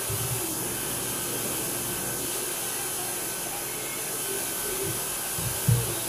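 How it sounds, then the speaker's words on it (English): A vacuum thermoforming machine pulling a heated ABS plastic sheet into a sluice tray mold hums steadily and loudly in a workshop, ending with a couple of short thumps. "watch what happens when the vacuum happens"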